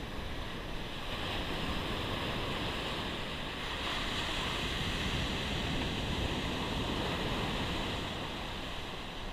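Ocean surf breaks along a beach near a fishing pier, a loud, continuous roar of waves with wind buffeting the microphone and no voices.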